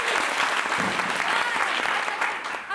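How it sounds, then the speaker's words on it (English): A theater audience at a showcase claps loudly and steadily, the dense applause filling the room at full strength before easing off slightly at the end. "Just get your hands warmed up, good. Let's bring it up a little louder like after a play. Now like after a football game."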